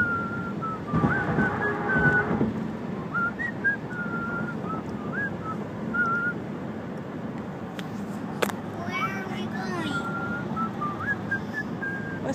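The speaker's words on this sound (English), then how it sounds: "Daddy whistling." A person whistles a wandering, tuneful melody in short phrases over steady background road and wind noise, with a brief louder burst partway through.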